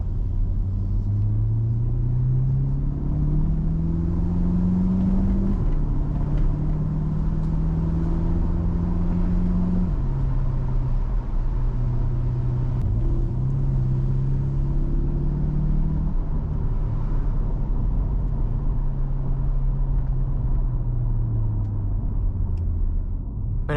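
A C8 Corvette sports car cruising UK country roads, heard from inside as a continuous loud engine drone whose pitch climbs and drops through several gear changes, no talk.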